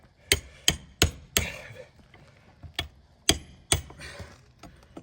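Nails are pried and knocked out of a mobile home roof in a series of sharp, close, irregular tool strikes, about eight distinct hits with brief rattling scrapes between them.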